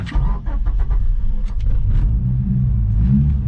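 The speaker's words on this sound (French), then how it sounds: "il faut jouer un peu à l'accélérateur" Mitsubishi car engine held at a low, steady rumble as the driver works the accelerator, close and loud, with faint brief voices over the droning idle.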